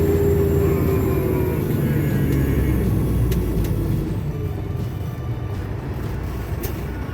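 A Cummins-powered truck pulls steadily while being shifted through a twin-stick 18-speed gearbox, a loud, close, continuous low rumble that eases slightly partway through, with no voices.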